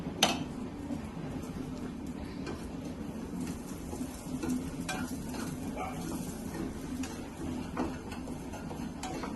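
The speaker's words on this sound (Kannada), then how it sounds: "ಇದು ಬೇಗ ಫ್ರೈ ಆಗುತ್ತಲ್ಲ ಗಸಗಸೆ" Poppy seeds fry in ghee in a pan, a steady low sizzle under repeated stirring scrapes and light ticks, close and moderately quiet, with no voices.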